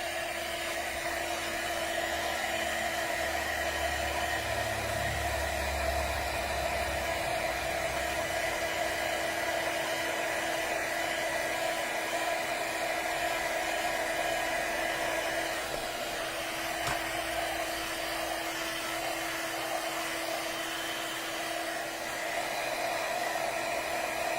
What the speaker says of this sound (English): And here's my heat gun going.